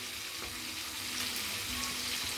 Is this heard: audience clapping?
no